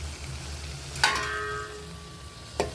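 Oil sizzling and spitting in a covered cooking pan, a steady soft fry with a sharp clink of the lid near the start and another light knock near the end.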